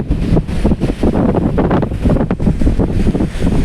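Sea waves wash onto the shore under heavy, buffeting wind that roars loudly and constantly across the microphone, masking much of the surf.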